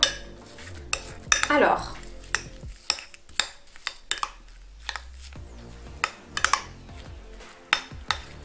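Utensil clinking and scraping in a bowl while a shampoo-based slime mixture made without glue is stirred, with irregular taps and clatters spread across the clip and a brief word spoken near the start.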